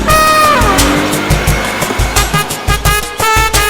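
A car roars past close by on a road, its engine loud with rising and falling revs, while tires squeal in repeated sharp bursts and a pulsing rhythm of rapid gear or engine surges follows.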